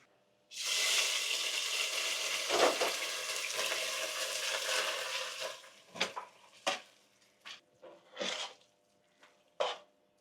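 Hot oil in a pan being readied for frying urad dal vada gives a loud, steady sizzle for about five seconds, then breaks into scattered short crackles and spits; no voices.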